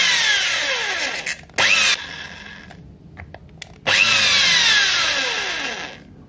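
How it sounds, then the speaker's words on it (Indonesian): A power drill bores out the rivet of a Hot Wheels die-cast car with a 4mm or 6mm bit, in several loud, close whining bursts that rise and fall in speed with short pauses between. "Ini pelan-pelan aja, kecuali pakai bor yang dua speed itu bisa slow sama kencang."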